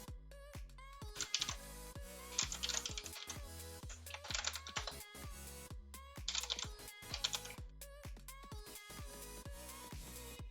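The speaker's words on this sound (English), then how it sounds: "I'm getting tired of typing that thing over and over and over again." Rapid, irregular clatter of keystrokes on a computer keyboard, coming in dense bursts with brief pauses, close and fairly quiet, no voices.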